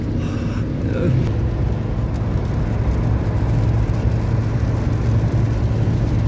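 Continuous broadband rumble and road roar of a car driving along a rainy road in Saudi Arabia, steady and close throughout with a faint whine, no speech heard.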